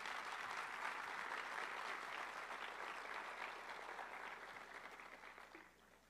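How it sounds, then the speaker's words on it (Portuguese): A church congregation applauds during a Portuguese-language sermon, giving even, steady clapping at moderate distance that gradually fades toward the close. "Aplauda o Senhor Jesus nessa manhã."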